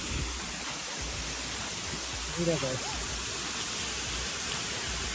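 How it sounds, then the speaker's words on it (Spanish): A waterfall pours in a dark spot, a loud, unbroken roar of rushing water filling the whole clip, with a brief spoken voice cutting in near the middle. "Miren, hay una cascada."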